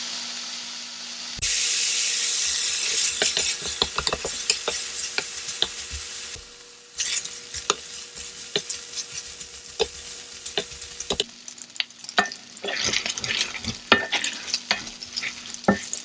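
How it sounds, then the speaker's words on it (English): Bacon sizzles and crackles loudly in a hot pan, with a steady hiss broken by scraping and stirring clatter throughout. "we're going to fry up all these little bacon pieces"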